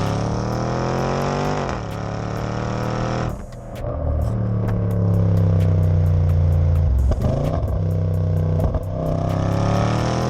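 A supercharged Range Rover SVR accelerates hard, its engine note climbing steadily and then dropping briefly at each gear change before rising again, loud and continuous from inside the vehicle.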